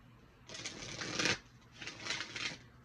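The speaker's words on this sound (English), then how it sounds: "But these cards shuffle so beautifully." A tarot deck is riffle-shuffled up close in two quick bursts of crisp, fluttering card clicks, the first longer and louder, followed by a softer second shuffle.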